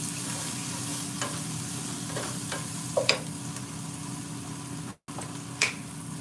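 Food spiced with Cameroonian pepper, stirred in a pan. A continuous sizzle carries a few light scrapes and taps from the spoon, and the sound cuts out for a moment near the end.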